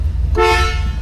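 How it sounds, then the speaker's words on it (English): A 1974 Pontiac Grandville sounds one short, loud horn blast, clear and close, with a low engine idle underneath. "Horn good."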